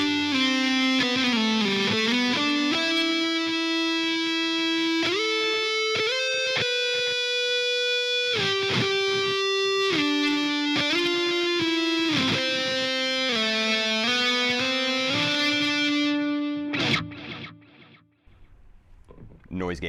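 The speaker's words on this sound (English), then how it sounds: "The neck pickup gives you some really nice options for lead tones." A distorted ESP LTD MH-1000 Evertune electric guitar on the neck pickup plays a sustained, singing lead melody with smooth, warm tone, notes held long before a noise gate cuts it off abruptly near the end.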